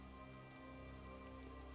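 Rain falls in Elder Scrolls Online as a faint, steady patter, continuous and soft under a low sustained ambient drone.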